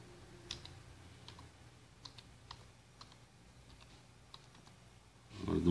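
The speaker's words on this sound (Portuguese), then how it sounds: "para digitar a senha do nosso roteador" A router password is typed on a computer keyboard in scattered, quiet key taps and clicks spread across the stretch, followed by a louder rustle or thump rising at the very end.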